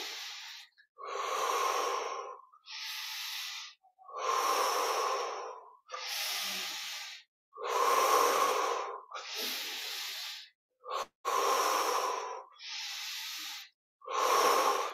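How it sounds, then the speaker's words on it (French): Slow, deep breaths during a guided meditation session, each long inhale and exhale rising and fading in a steady rhythm with short pauses between, close and fairly loud, with no talking. "On respire jusqu'au bout."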